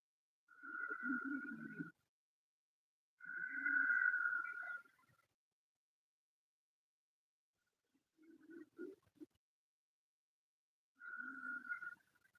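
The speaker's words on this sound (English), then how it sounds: "It's a very light constriction of the throat." Slow ujjayi-style breaths drawn through a lightly constricted throat, four soft hissing passes with gaps between them, close and quiet with no other sound around them.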